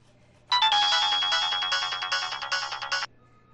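A phone rings as a call is placed to the commissioner: one clear electronic ringtone, a steady warbling trill lasting about two and a half seconds, heard alone against near silence.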